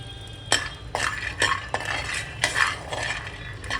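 Peanuts roast on a hot tava with a run of quiet scraping and clinking strokes, about two each second, as they are stirred.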